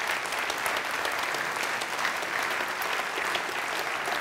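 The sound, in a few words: audience applause for Professor Schachtschneider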